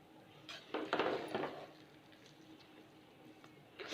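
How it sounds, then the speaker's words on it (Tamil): Spoon stirring quail biryani in a cooking pot gives a short run of soft scraping and clinking in the first second and a half, then quiet with a faint rustle returning at the end. "இப்போ இது வந்து மெதுவாக கலக்கி விட்டுக்கலாம்."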